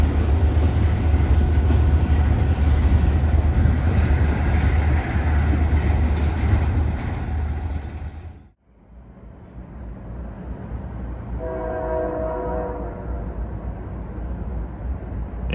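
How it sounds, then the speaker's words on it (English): A West Sider freight train rolls across a giant trestle over the Yamhill River north of McMinnville, heading to shove into the Cascade Steel Mill; a loud, steady rumble and rattle of cars, then a cut to a quieter rolling passage with a brief tonal squeal. "West Sider, just north of McMinnville, crosses a giant trestle over the Yamhill River as it prepares to shove into the Cascade Steel Mill"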